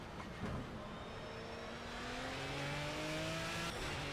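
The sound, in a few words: BMW V12 LMR race car driving at Nurburgring, Project CARS video game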